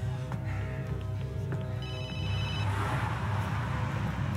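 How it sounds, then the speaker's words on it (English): Telephone ringing in a tense TV drama scene, a repeated electronic ring with a steady hiss behind it and no talking. "Dave, come on, answer the fucking phone."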